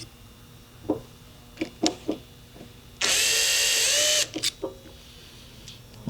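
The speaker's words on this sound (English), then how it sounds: "and then you guys can drill the hole" Power drill boring a hole into a metal block, one loud steady whir of about a second amid quiet workshop clicks and knocks.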